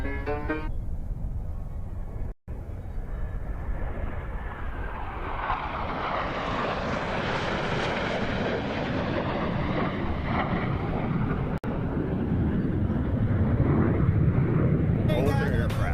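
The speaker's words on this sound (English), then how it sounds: "Blue Angels 5 and 6 are approaching the flight line at 400 miles per hour." Two Blue Angels jets approach the flight line at the 2021 Sun 'n Fun air show, a loud continuous roar that swells toward a peak mid-pass and then eases, with wind buffeting the microphone throughout.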